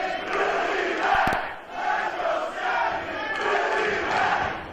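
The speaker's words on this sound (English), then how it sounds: "Crowd divided here in PCW Memorial Hall." A wrestling crowd in PCW Memorial Hall roars continuously, a dense wash of shouting and cheering voices that swells and dips, with a couple of sharp thuds near the start.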